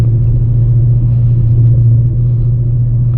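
A Mercedes E55 AMG fitted with budget UHP tires idles and rolls away gently in first gear, a steady low engine rumble close up with no clear revving surge.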